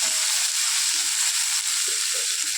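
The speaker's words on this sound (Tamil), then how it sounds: "நெக்ஸ்ட்டு இந்த கருவேப்பிலை வச்சு கொஞ்சம் தக்காளி வச்சு அதை மாதிரி கொஞ்சம் வதக்கணும்." Curry leaves and tomato sautéing in a pan give a steady, close hiss of sizzling, with a few soft low knocks from stirring scattered through it. No one speaks.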